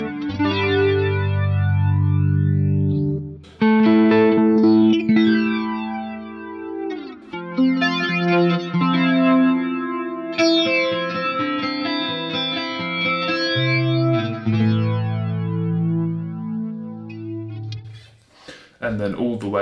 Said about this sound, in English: we can also turn up the depth, which at 3 o'clock, a bit more aggressive, sounds like this.